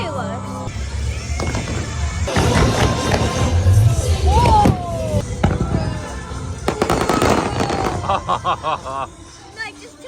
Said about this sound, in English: It just launched like a billion fireworks.